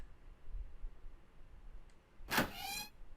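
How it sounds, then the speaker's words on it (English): A door opens in the video game 999 with one short mechanical whoosh and clunk, fairly loud against a quiet, low hum, then fades out after about half a second. "There's another door. Let's try opening it."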